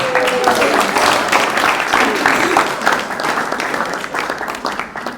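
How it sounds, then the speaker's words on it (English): Audience applause fills the room after a nature-education talk at a bird club presentation, steady dense clapping at close range throughout, with a few voices mixed in. "All right, a round of applause."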